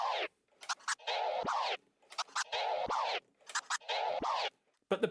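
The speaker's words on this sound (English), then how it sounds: "this is what a very simple combination of the two sound like" Simple DJ scratch combo pairing chirp scratches with drop scratches, played alone in short rhythmic bursts with crisp cuts and sharp silences between phrases.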